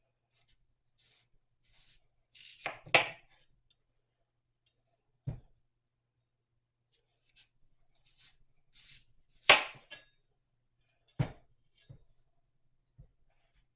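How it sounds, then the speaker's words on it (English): A knife dices a turnip on a cutting board for beef stew, giving sparse, irregular chopping knocks and scrapes, some in quick clusters and others single, close and fairly quiet with no talk. "I'm going to cut the turnip, or attempt to cut it, the same dice size"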